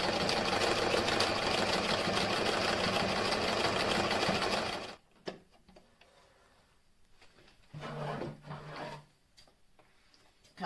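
A sewing machine stitches darts in fabric for a homemade mask, running in a loud, steady rapid buzz for about five seconds, then stopping, with faint handling sounds and a short second burst of stitching.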